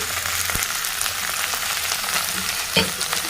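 Okra sizzles in hot oil in a pan with mustard seeds, cumin and onion: a steady, bright frying hiss with occasional clicks of stirring, close and continuous.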